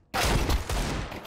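A rapid burst of Counter-Strike gunfire, loud close automatic shots rattling in quick succession after a brief silence.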